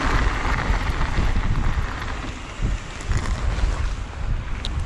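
Strong wind roars and buffets the microphone on a mountain bike ride at Curt Gowdy State Park in Wyoming, a loud, steady rushing with irregular gusty surges throughout.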